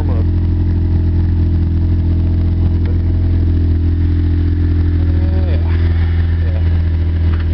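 A Ford Tempo engine idles steadily while warming up at the start of the day, a loud, even low rumble that runs throughout with faint background sounds and no talking.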